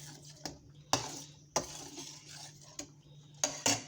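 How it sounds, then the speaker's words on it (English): A spoon clinks and scrapes against a pot while stirring spaghetti sauce sweetened with sugar. Several irregular metallic knocks sound close over a low steady hum, with no talking. "we'll give it a good stir"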